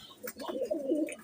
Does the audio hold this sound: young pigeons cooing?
yes